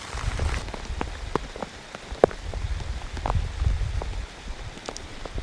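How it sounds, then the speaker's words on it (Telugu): Heavy rain pours steadily on a night campsite during solo camping, a dense close patter of drops with a few sharper, louder hits, continuous with no voices. "ఇంత గట్టిగా వర్షం కురుతున్నా"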